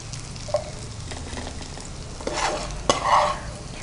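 Rail palaharam snack being stirred in a frying pan, with soft scraping strokes and a few louder clinks over a steady low sizzle, close up and without any voices.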